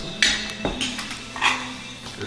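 Plates and cutlery clink together in a few light, scattered knocks, close by and fairly quiet, with no talking.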